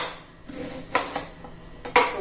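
A large onion is chopped finely with a knife, a few sharp, irregular taps of the blade hitting the board close by, spaced unevenly and with no talk.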